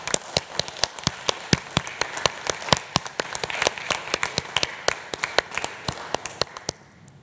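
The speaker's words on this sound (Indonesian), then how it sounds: "Mari kita sambut dengan tepuk tangan." A church congregation at a worship service claps to welcome newly installed board members: sparse, distinct claps in a loose rhythm, fairly close, tapering off toward the end.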